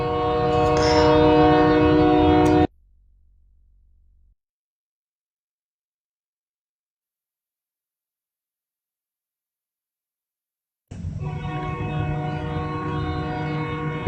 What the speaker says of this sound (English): train's loud